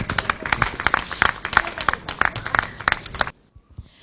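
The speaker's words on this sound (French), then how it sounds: "Je vous demande de l'applaudir" Audience applause at a Gabonese Women's Day event, a dense burst of clapping hands from a crowd that stops abruptly after about three seconds, leaving near silence.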